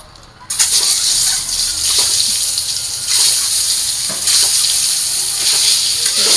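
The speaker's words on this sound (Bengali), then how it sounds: "এই যে আমি ডিমের তরকারি রান্না করার জন্য ডিমগুলো ভাইজা নেব।" Eggs being fried in a pan for egg curry sizzle loudly as they go into the hot oil, a sudden steady hiss that continues close up with slight swells.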